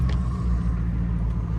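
Pickup truck maxed out towing an excavator on a trailer, a continuous heavy low engine rumble with road noise, steady and close throughout.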